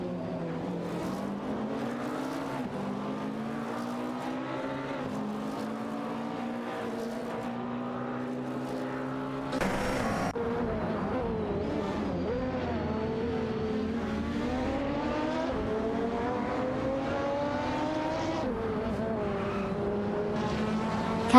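A Peugeot 908 and a Toyota GT1 race in a video game, their engines droning continuously with rising and falling pitch as they accelerate and shift, joined by a sharper burst of engine noise midway.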